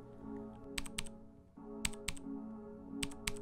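Typing on a Whirlwind FX Element mechanical keyboard, with clusters of soft, muted key clicks arriving in small bursts of two or three, close and quiet without talk.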